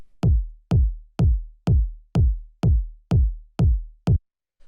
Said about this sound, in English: you can hear we just have this big, punchy, sort of tech house style kick